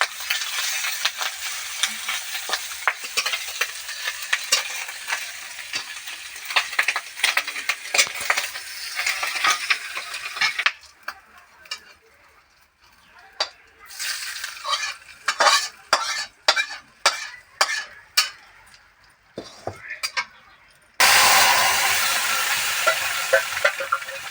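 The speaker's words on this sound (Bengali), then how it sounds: "মাকে ডিম আর মাছটা একসঙ্গে ভেজে দিয়ে দিচ্ছি" Egg and fish fry together in a pan, a strong steady sizzle that drops away midway into a run of sharp spatula scrapes and taps against the pan before loud frying resumes; no one speaks.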